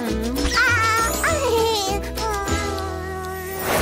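A voice imitates a cat meowing, several pitched meows in a row in a children's cartoon, close and fairly loud.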